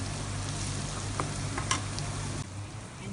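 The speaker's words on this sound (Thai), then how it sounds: "คั่วด้วยไฟอ่อน ๆ" About half a kilo of ingredients for a Thai banana-stem curry sauce dry-roasts in a pan over low heat, a close, continuous sizzle with light stirring scrapes that quietens near the end.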